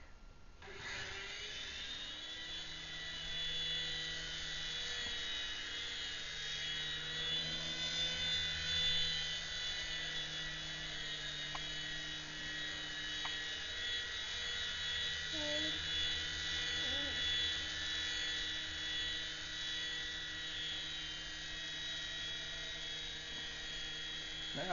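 A model helicopter's rotor spins with a steady high-pitched electric whine and buzzing motor hum, continuous and close for a long stretch, with faint background voices.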